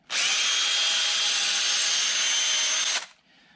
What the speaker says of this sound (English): Just drill it through, drill, drill, drill.